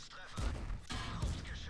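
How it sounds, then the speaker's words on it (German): Two heavy booming shots from a tank cannon in World of Tanks, roughly a second apart, each a loud thump with rumbling tail. "Nochmal die Kanone."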